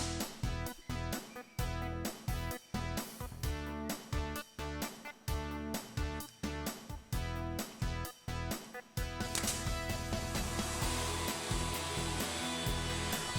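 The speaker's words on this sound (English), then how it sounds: "Over on the router table, I added a 45-degree chamfer to the top edges of the bases" A router table cuts a 45-degree chamfer along the top edges of wooden stand bases, a loud whining motor roar broken by rapid repeated bursts as the bit bites in, then a steady continuous roar near the end.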